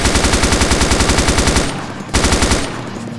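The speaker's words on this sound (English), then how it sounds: "Aim down the sights, open fire on the targets." Rapid automatic weapon fire at targets in the military shooter ArmA II: Operation Arrowhead, a loud close stream of rhythmic shots that stops briefly, then bursts again before trailing off.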